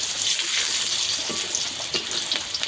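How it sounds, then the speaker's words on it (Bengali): Chopped onions fry in hot oil with a steady, dense sizzle and crackle that lasts the whole stretch, with a few soft pops and clinks over the top and no voices. "কিছুটা আমি কুচানো পেঁয়াজ দেবো। এটাকে আমি একটু লাল করে ভেজে নেবো প্রথমে।"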